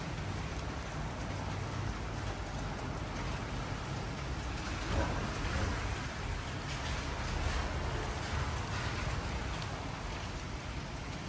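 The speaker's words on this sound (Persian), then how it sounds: "اینم نمایی از بارون، آسمون به شدت ابریه" Steady rain falls under a heavily clouded sky, a soft continuous hiss of drops without breaks, fairly faint and with no voices.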